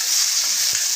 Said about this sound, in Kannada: ಈಗ ಎಣ್ಣೆ ಕಾದಿದೆ. ಹಾಕೋತೀನಿ. ಟೊಮೆಟೊ ಹಾಕೋತೀನಿ. ಸ್ವಲ್ಪ ಕೆಂಪಾಗೋಗು ಫ್ರೈ ಮಾಡ್ಕೋತೀನಿ.